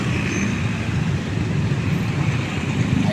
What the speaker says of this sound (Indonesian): macet ya kieu teh tapi rame baru jalan